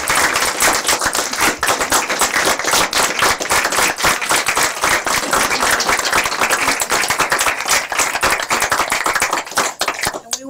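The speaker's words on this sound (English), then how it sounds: "we applaud you" A school board meeting audience in Virginia Beach breaks into loud, sustained applause, dense clapping from many hands filling the room without pause.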